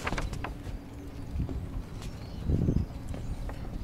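Horse-drawn buggy on a ride, hooves clip-clopping in an uneven series of soft knocks against a noisy outdoor background, with faint bird calls.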